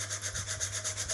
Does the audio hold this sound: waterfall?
no